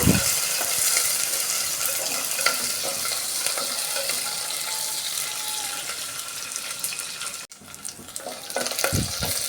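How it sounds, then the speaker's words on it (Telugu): Curry leaves and garlic cloves sizzle in hot oil in a pan, a loud continuous frying hiss broken by scraping stirs, with a brief dropout near the end. "తర్వాత కరివేపాకు అలాగే వెల్లుల్లి రెబ్బలు కూడా వేసేసుకోవాలి ఒక్కసారి కలుపుకుందాము"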